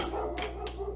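A new dog barks indoors, two short sharp barks in quick succession over a steady low hum, fairly close.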